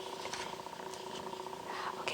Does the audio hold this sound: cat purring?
yes